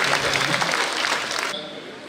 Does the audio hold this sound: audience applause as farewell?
yes